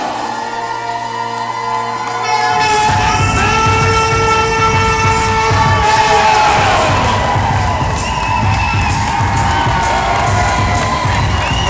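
Wrestling crowd in an arena in Saint John cheering loudly and continuously, with shouts and whistles swelling after a quieter opening and holding at full volume throughout.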